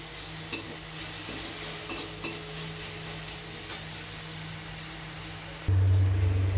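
A little chopped onion frying in a small amount of oil, with a soft, steady sizzle, a few utensil taps against the pan, and a low hum rising near the end.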